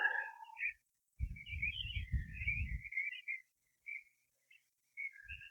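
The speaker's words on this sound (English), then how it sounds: "Gulls. Noisy buggers." Gulls calling in a series of shrill, wavering cries at a moderate distance on the Suffolk coast between Aldeburgh and Southwold, broken by short pauses and a few dull low rumbles.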